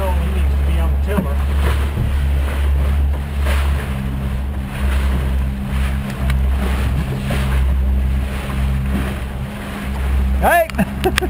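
A small tiller-steered boat under way off the west end of Deer Island on the Mississippi barrier islands, its motor a steady low drone with wind and water wash running throughout and a brief sharp squeal near the end.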